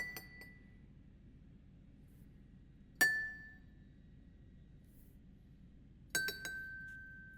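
Three separate struck chimes ring out, recorded up close and pitched to a musical key, each a bright clear note with a short decay, spaced evenly across a quiet background.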